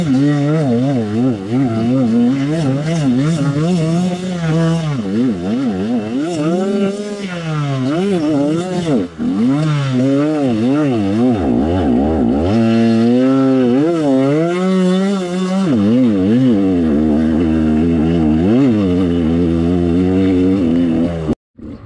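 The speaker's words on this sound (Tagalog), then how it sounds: "Pa-testing nga ako ng motor mo" A KRY 200 motorcycle engine revs loudly and close during a test ride, its pitch climbing and dropping in repeated throttle bursts with brief dips between, sustained and unaccompanied throughout.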